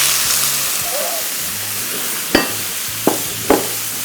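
Stock (yakhni) poured into a pan of sizzling grilled chicken, a steady close frying hiss with several sharp splashes and bursts of sizzle as the liquid hits the hot pan.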